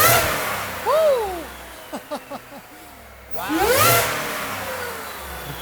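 A supercharged Ford F-150 with a Whipple supercharger revs hard in a few rising and falling bursts, with short blips in between, loud and close, and a voice briefly present.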